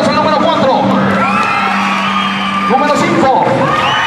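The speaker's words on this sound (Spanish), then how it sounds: "Fuerte aplauso al número 4." Rodeo crowd in Mesquite cheering, whooping and yelling for a contestant, a loud, continuous roar of voices with shouts rising and falling, an announcer's voice over it.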